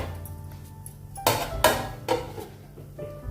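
A lidded metal pot of aalan, a Maharashtrian radish and chickpea dish, set down on a gas stove with a few sharp clanks over a low steady hum, close by.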